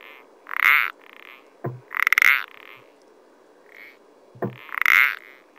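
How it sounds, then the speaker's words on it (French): A tiny toad calling, an early-season species whose call sounds like two pétanque balls knocked together, giving loud, clear, repeated knocking croaks at intervals of roughly three seconds, alone with no voices. "c'est un tout petit crapaud qui est actif assez tôt en saison et qui se détecte majoritairement quand on l'entend chanter"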